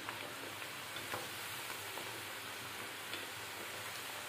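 Thin potato chips frying in hot oil make a steady, dense sizzle with fine crackling that runs evenly throughout, close and moderately quiet, with no talking.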